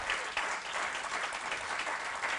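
Sustained audience applause fills a fire department swearing-in ceremony honoring a deputy chief, a dense, steady wash of clapping hands from a seated crowd throughout, with no voices over it.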